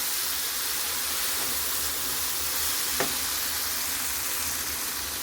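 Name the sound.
stirring food frying in a pan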